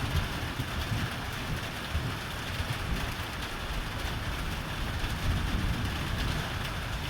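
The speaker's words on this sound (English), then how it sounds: "Can y'all hear the thunder?" Steady, dense rain falls on the bayou in an even hiss that does not let up, with a low rumble of thunder underneath.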